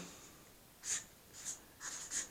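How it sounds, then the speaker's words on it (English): Pen scratching numbers onto a sheet of paper, four short quiet strokes in an otherwise hushed room, with no talking. "So I'll write it on a piece of paper."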